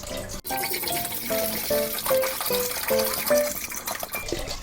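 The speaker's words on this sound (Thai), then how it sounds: "เทน้ำเปล่าลงในหม้อนะคะ" Plain water poured from large bottles into a cooking pot, a continuous splashing, gurgling stream with rising bubbly tones as the pot fills, close and steady without pause.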